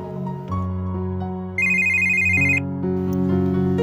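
A phone ringtone plays loud and close, a bright electronic melody of shifting sustained tones with a sharper high-pitched passage in the middle, repeating phrases and no voices over it.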